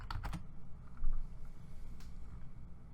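A search term is typed on a computer keyboard as a quick flurry of close keystrokes, followed by a few scattered clicks over a low room rumble.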